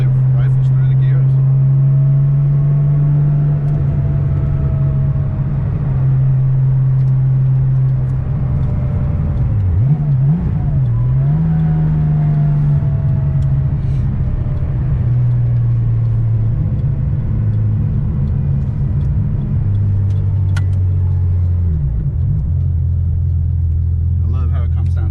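A 1977 Porsche 911 RSR tribute engine hums loud and steady from inside the car, rising in pitch through the gears with brief dips at each shift around the middle and near the end.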